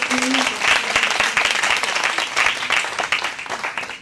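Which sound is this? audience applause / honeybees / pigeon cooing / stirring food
audience applause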